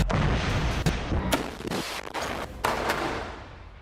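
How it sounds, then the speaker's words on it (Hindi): Explosions from a short-range 114 mm Rajum missile attack during fighting in Rafah, Gaza, come as several heavy booms and sharp blasts in quick succession. The rumble is loud and dense and fills the whole stretch. "हमास के लड़ाके इस वीडियो में शॉर्ट रेंज वाले 114 mm कैलिबर रजुम मिसाइल से हमला करते हुए नजर आ रहे"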